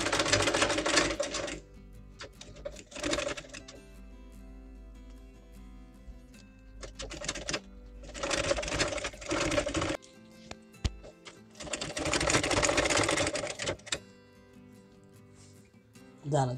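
A home sewing machine stitching tape along a zip on a dress or kurti, running in several bursts of fast rhythmic clatter a few seconds long, separated by quiet pauses.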